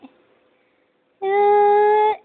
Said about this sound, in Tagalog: Kaya suplada yung pusa na yan.